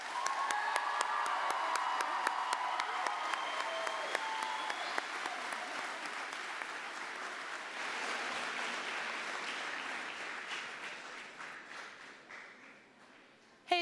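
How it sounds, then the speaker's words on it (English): An audience at a Washington FFA convention session applauds to welcome visiting state officers onto the stage, a sustained wash of crowd clapping that gradually thins and fades near the end. "Join me in a thundering round of applause to welcome onto the stage our visiting"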